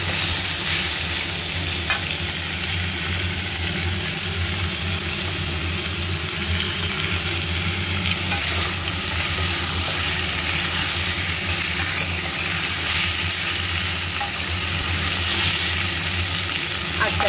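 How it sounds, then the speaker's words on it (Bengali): Masala sizzles steadily in a pan while being sautéed for potol prawn curry, a continuous close frying hiss with faint stirring throughout. "এবার আমি ভালো করে কিন্তু কষাতে থাকবো।"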